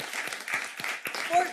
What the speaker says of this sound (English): I think we can do a round of applause for that.